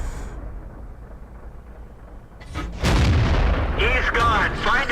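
A KV-1 tank's 85 mm gun firing in World of Tanks, a heavy booming shot that bursts in loudly midway over a low battle rumble, followed by a voice talking over the fading echo.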